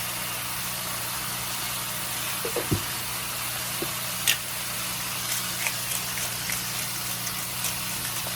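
Steak seasoned with Worcestershire sauce, salt and pepper searing in a pan: a steady, broad sizzle runs throughout with a low background hum and a few brief clinks and pops, no talking.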